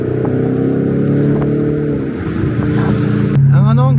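A V8 car fitted with a new JDM muffler idles and revs, a deep bassy exhaust rumble that swells and falls, close by, with brief voices near the end.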